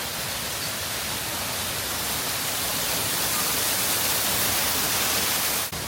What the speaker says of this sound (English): Getting closer to the waterfall.